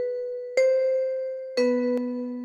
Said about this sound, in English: Another vibraphone.